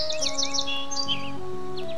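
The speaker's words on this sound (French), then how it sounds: "J'ai trouvé un pigeon voyageur." A carrier pigeon in a cartoon gives quick, bright chirps and tweets in short bursts over a soft, steady musical backing, close and clear.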